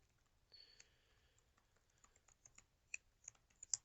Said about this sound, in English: I've got an email just here that I'll literally be typing.